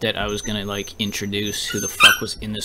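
A dog lets out sharp, yelping cries close to the microphone, rising over someone talking in short bursts on a live stream.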